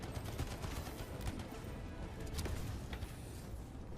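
Heavy artillery gunfire in the shooter game Anthem, a dense continuous barrage of rapid shots with a few sharper cracks standing out, loud and unbroken throughout.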